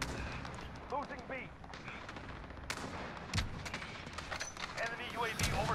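Gunshots ring out in a Modern Warfare multiplayer match: scattered sharp cracks and short bursts at varying distances, mixed with game voice callouts and a player talking.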